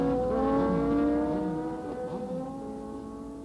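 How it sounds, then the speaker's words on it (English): A Yamaha FJ 1100 motorcycle drag racing on the strip at Santa Pod, its engine screaming loud and high as it accelerates away, rising tones shifting before fading slightly into the distance. "This Yamaha FJ 1100 belonging to Paul Lawrence was long, low and turning 11-second runs here at Santa Pod"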